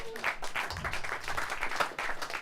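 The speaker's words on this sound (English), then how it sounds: "Yeah, you can applaud." An audience at a Fort Wayne 1 Million Cups meeting applauds, a brief burst of steady clapping from many hands in an indoor room.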